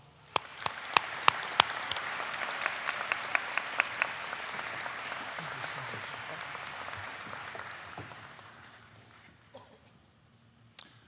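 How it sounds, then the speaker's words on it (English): A convocation audience gives a warm round of applause, dense clapping with a few sharp close claps standing out, steady for several seconds before thinning and fading away. "Please join me in giving him a warm round of applause."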